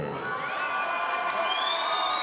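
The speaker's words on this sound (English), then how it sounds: "And also a big round of applause for his opponent, Oscar Mueller." Crowd cheering and shouting at a boxing event in a hotel ballroom after a super welterweight title bout, a steady roar of voices with whoops rising above it and no distinct claps.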